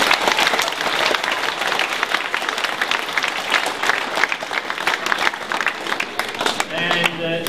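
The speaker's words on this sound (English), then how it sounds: "Give her a big round of applause." Loud, sustained audience applause fills the hall for a welcomed guest, dense steady clapping from a large crowd at a teacher of the year awards event, tapering slightly near the end.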